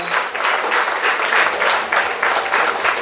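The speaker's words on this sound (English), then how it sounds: "Let's have a lusty round of applause for Mr. Gerald Richards." Audience at an evening tribute event applauding steadily, a dense, continuous wash of clapping heard up close with no talk over it.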